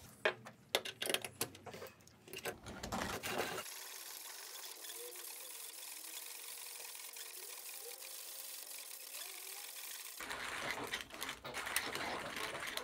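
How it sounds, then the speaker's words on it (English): A brass Turkish mokka hand grinder cranks through 7 grams of coffee beans, giving rapid rattling, crunching ratchet clicks at first, then a steadier metallic grinding drone before the crunching returns near the end, close and loud. "that's about 100 turns of the handle with the adjuster one turn out"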